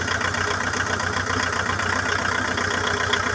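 A diesel engine idles steadily while warming up, running rough and blowing blue smoke with a possible injector fault; a constant low throbbing chug, close and loud, with no voices.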